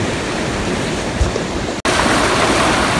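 A flooded creek rushes in a loud, constant broadband roar of running water, with no talk and only a brief dropout partway through.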